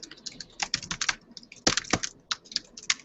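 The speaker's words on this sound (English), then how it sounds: "If I can type." Quick bursts of clicks from typing on a computer keyboard, irregular and close, with short pauses between flurries of keystrokes and no talking.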